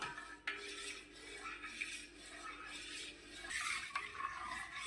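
Utensil scraping and stirring vegetables around a pot during home cooking for shrikhand, a steady rasping, clattering rub that continues for several seconds up close, with no talking.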